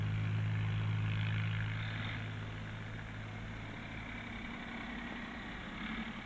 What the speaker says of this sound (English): Here we are, the engine of the Dexter 2000.